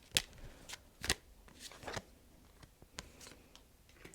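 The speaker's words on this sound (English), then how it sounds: "I'm going to pull a couple of tarot cards." Tarot cards are shuffled and pulled close up: a quiet run of crisp papery flicks and snaps at an uneven rhythm, with no talking.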